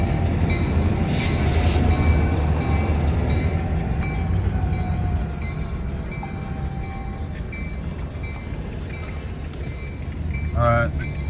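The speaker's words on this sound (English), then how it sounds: "Wheels are spinning, they're saying." A train hauled by four locomotives is stalled on a hill on wet rail, its wheels spinning. The result is a continuous heavy rumble with squealing and clanking that runs on throughout, along with a short high squeal near the end.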